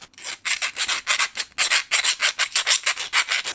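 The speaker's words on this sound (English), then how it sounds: "So we take a file and just remove that." A hand file rasps back and forth across a metal rod, about twenty quick, even strokes in two bursts with a brief pause between, close and loud with no talking.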